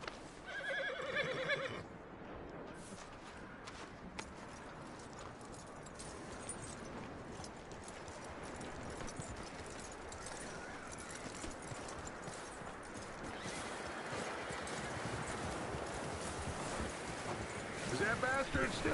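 A video game horse's hooves clip-clop steadily and close over a dense, windy bed of game ambience, with a short whinny-like burst near the start.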